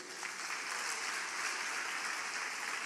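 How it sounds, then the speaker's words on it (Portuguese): A church congregation applauds during a sermon, a soft, evenly sustained patter of many hands that sounds somewhat distant and faint, without voices. "Você pode dar um aplauso a Jesus?"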